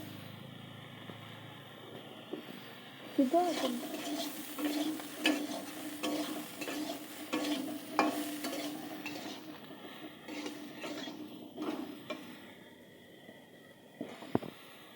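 Soaked soybean chunks frying in a pan while a spatula stirs them, a soft sizzle with repeated scrapes and light metal clinks, fairly quiet and close, no speech.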